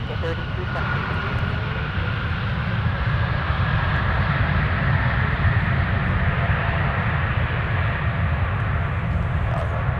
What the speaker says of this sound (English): 1140 coming in from Santa Ana is about to touch down